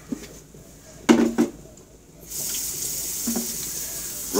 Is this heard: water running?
yes